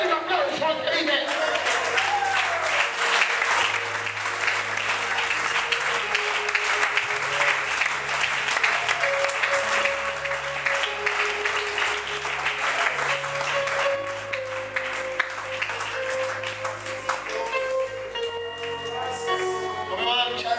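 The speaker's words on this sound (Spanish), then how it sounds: "Dale un aplauso al que vive." A church congregation applauds continuously during a Spanish-language worship service, dense sustained clapping mixed with music and voices, while organ or keyboard tones sound underneath.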